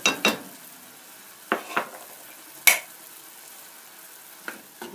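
Ingredients for a traditional kamounia, with olives, salt and turmeric, stirred in a pan, giving a few separate scraping strokes over a soft, quiet sizzle with no voices.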